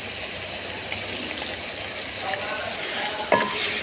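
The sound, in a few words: frying masala for shahi chicken korma in pot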